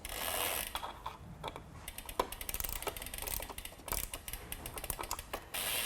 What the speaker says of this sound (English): use your torque wrench set to 13 Newton meters to alternatively tighten